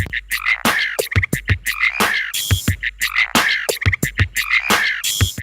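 Katydid calls from a nature recording, mixed into a rhythmic pattern alongside a croaking frog-like rasp: repeated sharp, raspy chirps and clicks in a steady pulsing beat, loud and close with no talking.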